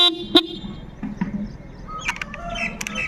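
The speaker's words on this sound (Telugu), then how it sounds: "హారన్ చూడండి." A TVS Star City motorcycle's horn gives one brief, close beep, followed by faint chirps and light background noise.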